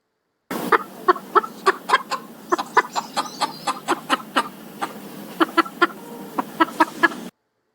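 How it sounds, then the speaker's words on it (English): A flock of chickens clucks in a steady run of short, sharp, repeated calls, fairly close and loud, with no talking over them. "I did just play a clip of chickens on purpose"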